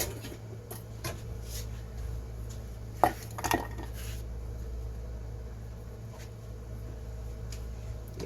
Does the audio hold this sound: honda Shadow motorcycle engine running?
no